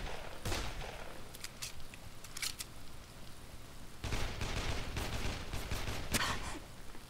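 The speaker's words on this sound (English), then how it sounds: "Ryder's gonna keep shooting." Enemy gunfire in the Dead Island Definitive Edition video game, rapid bursts of shots and cracks over a constant noisy background, growing denser in the second half.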